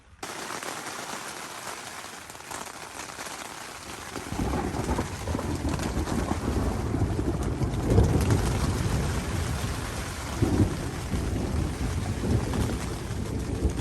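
Steady rain falls in the Sierra Nevada backcountry, heard from under a tree, with a broad low rumble of thunder swelling about a third of the way in and lingering as a continuous roar over the downpour.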